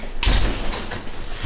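A college dorm room door is opened with a sharp latch click and a dull thump, followed by a short shuffling rattle, close and fairly loud.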